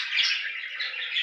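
Budgerigars chirping in a breeding cage, a quick, bright, continuous twittering that sits close and clear for just over a second with no voices.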